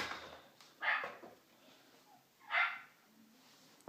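A dog barks twice, a few seconds apart, somewhat distant and muffled, with quiet background between the barks, while it is shut outside unable to get in.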